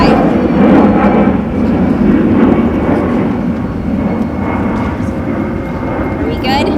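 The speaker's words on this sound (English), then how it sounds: "I'll give the plane a moment to pass" An airplane passes overhead at an outdoor press event in Arizona, a loud, continuous broadband engine roar that fills the scene for several seconds at a steady level, with voices faintly present beneath it.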